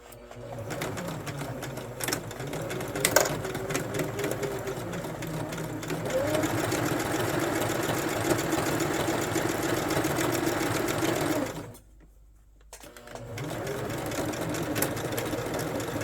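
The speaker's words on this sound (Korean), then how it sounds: "이렇게 이 상태에서 박음질 해줄게요" A sewing machine backstitches fabric with a steady, whirring mechanical hum that pauses briefly near the end and then resumes. Faint talk can be heard beneath it.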